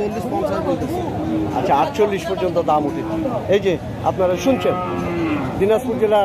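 Cattle low repeatedly at a crowded rural cattle market in Chirirbandar, Dinajpur, where bulls are sold ahead of Qurbani. Several loud, drawn-out moos rise close by over the chatter of the crowd, and someone speaks throughout.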